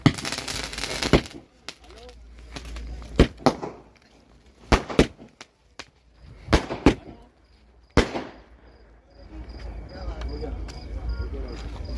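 Fireworks go off in sharp, irregular bangs and pops at the Zinda Shah Madar Urs at the dargah, some in quick pairs, over a low rumble. Faint voices can be heard between the blasts.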